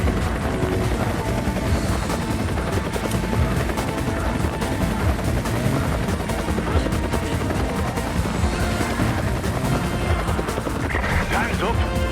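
Helicopter rotor roar in the Resident Evil 5 video game, a steady loud chopping drone filling the whole stretch, mixed with crashes and gunfire-like bursts and occasional voices.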